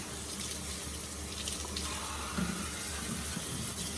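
Tap water runs steadily into a kitchen sink for rinsing dishes after making relish, a continuous close hiss with no talk.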